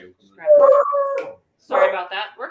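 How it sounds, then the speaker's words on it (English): A beagle indoors lets out two loud, drawn-out howling bays with a whining, wavering tone, separated by a short pause, close to the listener. "So we have a dog. That was her. Sorry about that. The beagle."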